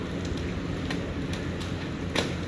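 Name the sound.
rain falling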